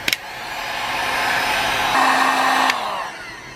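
A heat gun shrinks heat shrink tubing onto an antenna. A click opens a steady, loud blowing hiss that swells slightly, then drops off near the end.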